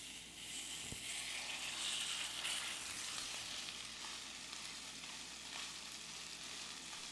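Chorizo frying in an oiled pan, a steady soft sizzle and crackle with faint scraping, fairly quiet and unbroken, with no talking.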